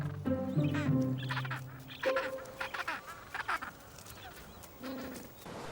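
Gentoo penguin chicks calling on a shore in the Falklands, producing a chorus of nasal, wavering squawks and honks that overlap near the listener, with rougher cries breaking through in bursts.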